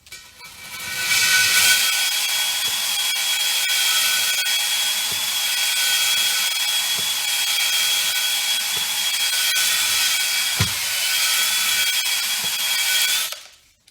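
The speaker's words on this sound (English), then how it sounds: "I have the drill on speed 1. I'm pulling the trigger half to 3/4 of the way." A handheld drill running on its lowest speed spins a hone inside a cylinder of a John Deere H tractor engine block, a loud, even high-pitched whir with faint rhythmic knocks as the tool strokes up and down.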